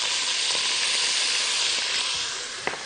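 Meat sizzles steadily as it is added to a pot for Moroccan harira soup, a loud continuous hiss of frying with no talking.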